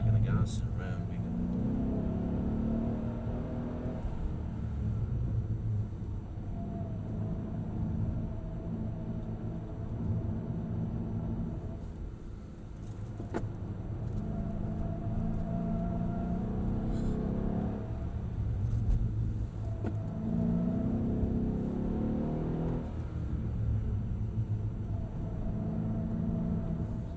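A Mercedes E63 AMG accelerates around a track at Brooklands, its engine rumbling low and steady near the listener, swelling in repeated surges as the throttle opens, with a driver talking over it.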